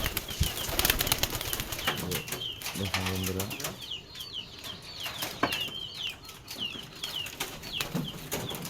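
Pigeons, local Bangladeshi Giribaz tumblers, flutter and flap their wings in bursts as they leave their loft in the morning, alongside a few faint coos and chirps, while someone talks over the fluttering.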